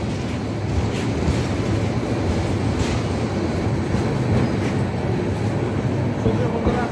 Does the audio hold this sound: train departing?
yes